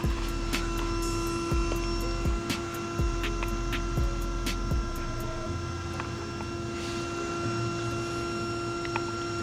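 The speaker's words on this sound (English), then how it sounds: "You can hear the fan going off." A car's cooling fan on a 1999 Z28 makes a steady mechanical whir with a constant hum throughout, punctuated by occasional faint clicks and ticks, moderately loud and continuous.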